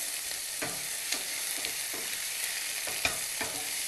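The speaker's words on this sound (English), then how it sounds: "And now you stir these around for a minute." Onions and ginger stirred in a frying pan for vegetable pulao, giving a steady close sizzle broken by repeated scraping strokes of a spoon against the pan.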